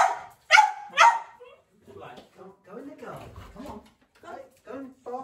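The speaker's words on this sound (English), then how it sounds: "He's seen a dog." A dog barks twice, loud and close, near the start, followed by softer whimpering yips under someone talking indoors.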